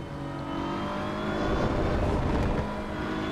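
A race car engine in the racing game Assetto Corsa EVO revs steadily with a rising harmonic whine, loud and continuous, without any talk over it.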